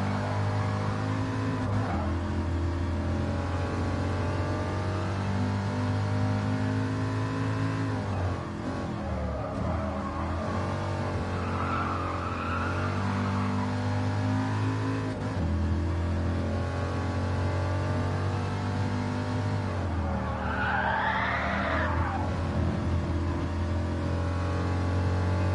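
1950s racing cars on a track, engines droning and revving steadily through a curve, with pitch shifts as they brake and accelerate, sustained loud engine noise throughout.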